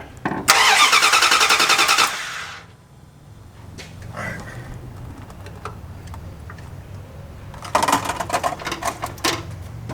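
A Harley-Davidson motorcycle engine with the coil wire pulled off cranking over on the starter in two loud rhythmic bursts, with a quieter pause between them.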